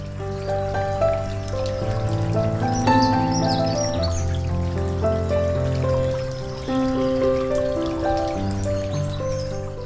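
Water trickles and drips over small stones in a miniature tabletop waterfall for a dish garden, a steady close gurgle running throughout with soft music underneath.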